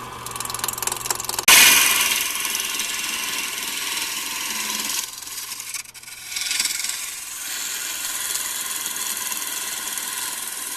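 A wood lathe spins a square horn cup blank while a large gouge cuts into it, giving a loud, steady, close grinding rasp that starts with a sharp bite and continues unbroken with small changes in tone.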